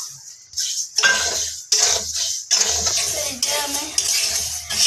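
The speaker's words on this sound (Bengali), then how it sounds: "এই যে এবার এই ডালটা একটু হালকা করে ভেজে নেব" Dal lentils lightly frying in a kadai, with repeated metallic scrapes and clinks of a spoon stirring against the pan, steady sizzle-like hiss throughout, close and fairly loud.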